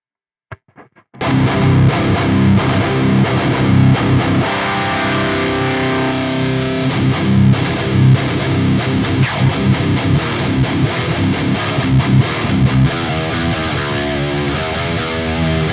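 A distorted electric guitar plays through a Soldano SLO100 amp recreation with scooped mids, loud and continuous with sustained chords and riffs after a few quiet picked notes at the start.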